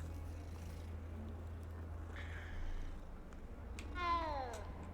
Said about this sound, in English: The cat's meows are weird.